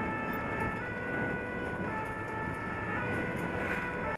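Wailing ambulance siren in a town after a motorcycle collision, a steady continuous wail at moderate distance over dense background noise.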